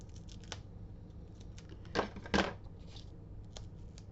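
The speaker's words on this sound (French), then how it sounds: "On va prendre le petit ciseau pour faire peut-être mieux" Small scissors snip through paper card while a Halloween shaker card is being made: a few soft ticks, then two sharp close snips about half a second apart, over quiet room hiss.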